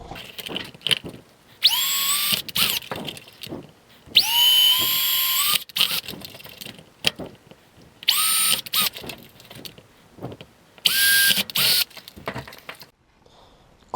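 A power drill bores holes into a second plastic bottle, four separate whining bursts that ramp up in pitch and then cut off, with knocks and handling noise between them and a quiet ending.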